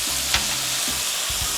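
Steak, potatoes and onions sizzling in a pan as Worcestershire sauce goes in, a loud steady frying hiss with a few brief stirring clatters, no voices.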